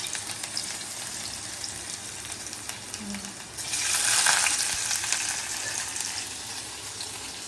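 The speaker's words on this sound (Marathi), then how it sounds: "आता पहिलं या कांद्याला आपण फ्राय करूया" Onions deep frying in oil for mutton biryani, with a continuous bubbling sizzle that swells louder partway through as more is stirred in.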